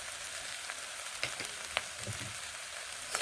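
Onion greens fry with Maggi masala in a pan, giving a faint, steady sizzle broken by a few soft clicks from stirring.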